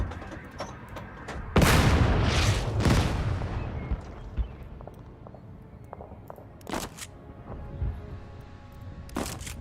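Gunfire from units firing at fleeing enemies in the Total Tank Generals war strategy game: a burst of loud booming shots early on, followed by scattered sharper reports over a low rumble.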